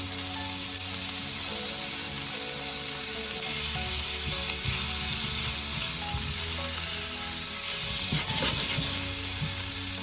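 Potatoes fry in oil with Greek seasoning in a pan, giving a continuous close sizzle with a few scraping, stirring sounds near the end.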